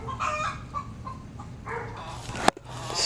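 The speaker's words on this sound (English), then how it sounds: "chickens clucking as loud as possible" Homestead chickens clucking loudly and close by in short, agitated bursts, with a sharp crowing squawk near the end.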